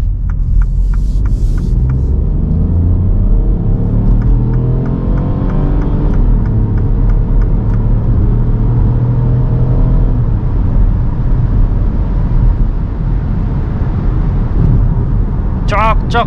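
A Mini Countryman gasoline car accelerates hard in sport mode, its engine note climbing steadily in pitch over a constant road rumble heard from inside the cabin, with a brief voice near the end.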